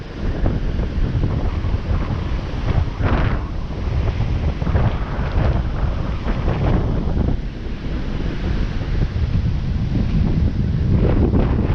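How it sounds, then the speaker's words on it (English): Rough sea waves at Boracay White Beach roll and break continuously at close range, a loud steady surf roar with gusty wind buffeting the microphone throughout. "As you can see, the sea is very rough. There are two big waves."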